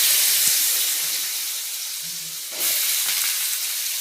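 Potatoes hit hot oil with spluttering mustard seeds in a pan for a Tamil potato curry, giving a steady, close frying sizzle and hiss with a brief louder burst partway through.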